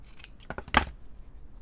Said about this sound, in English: And then I'm going to cut this seam away to open this cuff up.